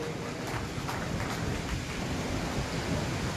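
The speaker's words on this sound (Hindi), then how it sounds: "बहुत बढ़िया, जोरदार ताली बजाइए अपने लिए।" A class of students in a Bhaktamar recitation lesson applauds themselves loudly, a dense continuous wash of many hands clapping at once with no pauses.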